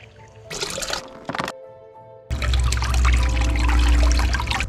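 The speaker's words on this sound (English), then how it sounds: "I'm just gonna kind of pour water over this so that the clay can kind of melt and soak through the screen" Water is poured over backyard dirt and clay sitting on a screen, starting with a few short splashy pours and then becoming a steady, loud, close stream that trickles and splashes through, with no talking.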